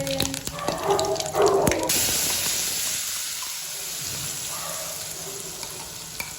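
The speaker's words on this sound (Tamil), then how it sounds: "இப்போ கருவேப்பிலை தெரிக்குது தெரிக்குது தெரிக்குது" Curry leaves splutter and crackle in hot oil for garlic chutney, a loud sizzling burst with sharp pops at first that settles into a steady softer hiss close by.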